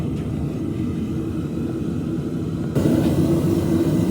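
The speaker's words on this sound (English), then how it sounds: "the jet to the forge is burning" A gas forge burner jet roars in a steady, dense broadband rush. The roar grows noticeably louder partway through and continues without pause.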